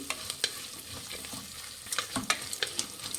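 Eight green chillies frying in a pan for akki usli, with a low continuous sizzle broken by scattered scraping clicks of a spoon stirring, several sharper knocks clustered toward the end.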